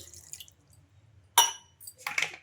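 Water poured into a grinder jar of chutney made with curd for idli, a few short, close splashes and drips separated by quiet gaps.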